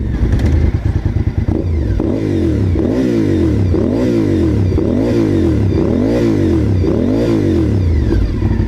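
A motorcycle engine revs hard over and over in a steady rhythm, each throttle blip rising and falling, loud and close with no one talking.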